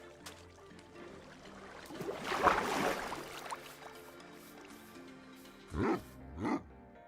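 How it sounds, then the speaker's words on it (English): Wolf in a hardcore-mode survival video game, a few sharp barks: one louder, rougher burst, then two shorter close yaps a moment apart over quiet game ambience. "I hear a dog."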